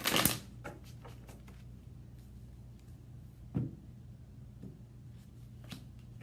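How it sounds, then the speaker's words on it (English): A psychic shuffles a deck of cards three times, giving three brief papery riffle bursts spaced a few seconds apart over a quiet low hum, with the first shuffle loudest. "We're gonna do 3 shuffles on this"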